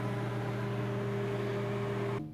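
A microwave oven hums steadily with a loud, even electrical drone close by, then cuts off abruptly near the end.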